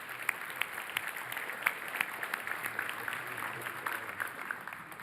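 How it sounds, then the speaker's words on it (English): A crowd claps steadily in a room at a United Way campaign kickoff event, scattered hand claps blending into moderate, sustained applause. "Let's give each other a round of applause"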